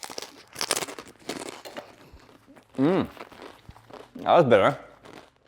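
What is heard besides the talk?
crunching crusty bread dipped in dauphinoise soup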